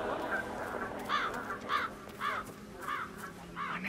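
Crows caw repeatedly in the Hitman 3 video game, a series of about six harsh, evenly spaced calls at moderate distance over a low background murmur.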